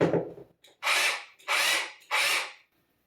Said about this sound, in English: hammer drilling. See, it's not spinning.